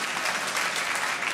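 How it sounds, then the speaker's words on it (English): Dense, steady applause from a large theatre audience at the Royal Variety Performance 2014, filling the hall evenly with no voices over it. "I hope you're clapping for Mandela."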